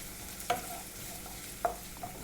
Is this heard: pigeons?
no